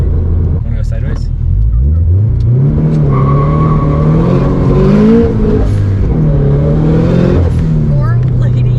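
A car's engine revs hard while it drifts sideways, rising and falling in pitch, loud and close, with brief voices mixed in.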